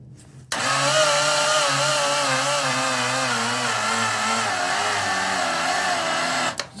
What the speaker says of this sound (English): We are definitely turning this engine. It doesn't like it. Getting slower and slower.